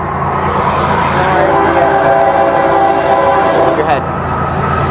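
A loud passing train rumbles steadily throughout, and a sustained horn blast sounds over it through the middle; a voice may be faintly present.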